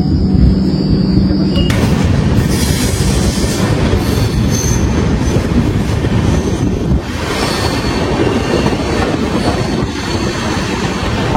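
Vande Bharat train rolling past loudly and close, a continuous roar of wheels and rushing wind with some squealing, filling the whole stretch without letting up.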